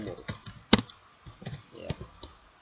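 Keys tapped on a computer keyboard while a Java program is entered: sparse, irregular keystrokes with one sharp, loud key press early on, close and clear with no talk.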